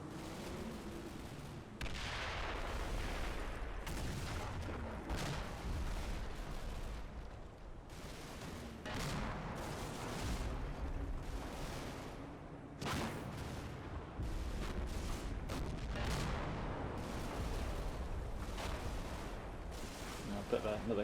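Mortar rounds land on a reverse slope in a video game battle, a dense run of booming impacts and rattling gunfire, with a voice talking over it.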